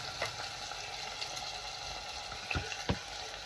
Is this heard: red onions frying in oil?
yes